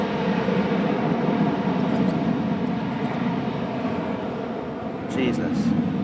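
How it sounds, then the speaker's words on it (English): A loud, steady jet roar of an airplane taking off in Kefalonia fills the whole stretch, a constant low rumble with a brief higher whine near the end. "there's a plane taking off"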